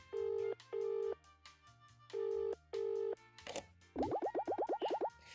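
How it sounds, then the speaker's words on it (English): A telephone call in a Paper Mario–like indie game opens with repeated steady beeping tones, four pulses with short gaps, then a sweep and a rapid warbling burble of bloopy game-style phone sounds. "Please wait 1 second while I phone my boss."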